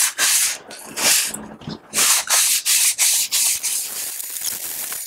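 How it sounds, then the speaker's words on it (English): A vintage Sargent No. 400 series hand plane is wet-sanded by hand with 400-grit sandpaper and WD-40, making loud, close, rhythmic back-and-forth scrubbing strokes with short pauses between them. "it's just so much sanding to smooth these things out."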